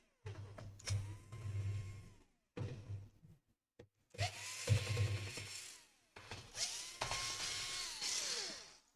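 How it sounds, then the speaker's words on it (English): Small screws being backed out of the underside of a Lenovo X1 Carbon 6th generation laptop with a powered driver, several close whirring bursts with ratcheting clicks, separated by short pauses. "let's unscrew everything that we see here."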